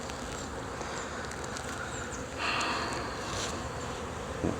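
Bees buzz steadily around an open hive during a colony inspection, a dense, faint droning swarm with a few individual insects passing closer by.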